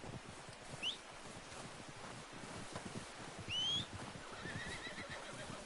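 A horse in the Red Dead Redemption 2 video game whinnies twice, short shrill neighs over soft clip-clop hooves, rustling and wind, all fairly quiet.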